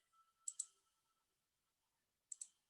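Computer mouse clicked twice in quick succession, then again after a two-second pause; soft, close double clicks in a quiet room.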